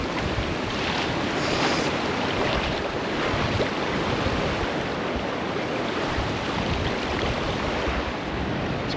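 Strong water rushing across a river ford on a bikepacking route from Greece to Turkey, a steady, loud, broadband roar that holds constant throughout with wind buffeting the microphone and no voices.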